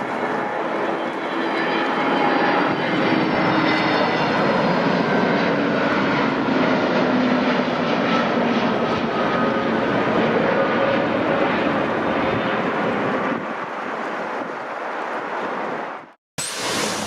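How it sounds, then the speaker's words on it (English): TAP Air Portugal Airbus A321neo jet arriving from Lisbon at Newark airport: a loud, steady broadband engine roar held for about sixteen seconds, easing slightly near the end before a brief dropout. "Arriving from Lisbon with another Airbus A321NX is TAP Air Portugal Flight 201."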